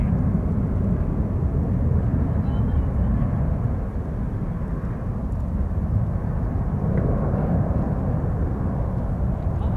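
A jet airliner rumbling at San Francisco International Airport, a loud, steady broadband roar that holds for the whole stretch with only slight swells, heard close and continuous with no voices.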